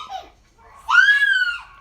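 A young child lets out a single high, rising-and-falling scream, preceded by a brief softer vocal sound, fairly close and alone.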